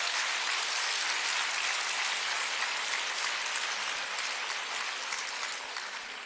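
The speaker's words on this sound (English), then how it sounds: "Adults usually clap when I say that" An audience claps steadily through a school talk, a dense, even wash of applause that holds strong and then tapers slightly toward the end, with no voices over it.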